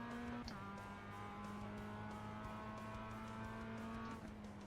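A race car in the iRacing sim at Oulton Park holds a loud, steady engine drone with a sharp shift near the start and another near the end, tire noise faint beneath, no talk.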